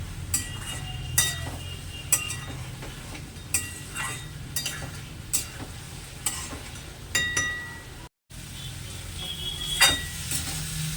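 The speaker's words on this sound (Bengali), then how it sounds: "সবগুলো উপকরণ একসাথে মিশিয়ে নিয়ে ভালোভাবে কষে নিতে হবে" Prawns and pointed gourd sautéing with spices in a pan, a steady sizzle broken by repeated scraping stirs and occasional clinks of a utensil against the pan, close and continuous with a brief gap near the end.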